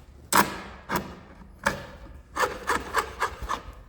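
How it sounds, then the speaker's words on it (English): Hand file rasping along a laminate countertop edge, a series of short, sharp scraping strokes, first spaced out and then quicker and more regular, close and clear with no talk. "You want to file that off."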